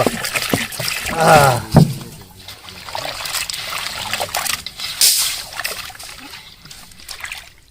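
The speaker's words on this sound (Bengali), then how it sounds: "মাংসটা আমি এখন ধুয়ে ফেলবো" Raw chicken pieces are rinsed in a pot of water in a village kitchen, with sloshing, trickling and splashing that swells and fades, nearby and fairly loud, a voice briefly heard.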